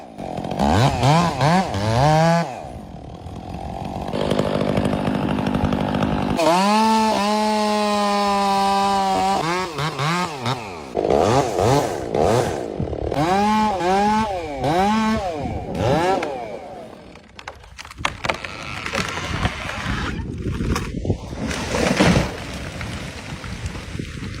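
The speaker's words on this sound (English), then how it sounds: "a worker used a chainsaw to cut a large tree" A chainsaw cuts into a large tree growing from a steep cliffside, its engine revving up and down repeatedly with loud, rising and falling whines and continuous cutting roar throughout.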